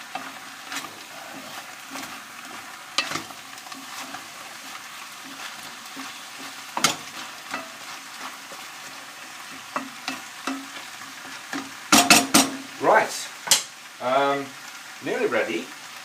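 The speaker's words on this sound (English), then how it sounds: "I think we can now put the parsnips and the carrots in. Stir around." Parsnips and carrots being stirred into a sizzling hotpot, a low continuous fry with scattered spoon scrapes and clanks against the pan, growing busier near the end, with a voice speaking briefly.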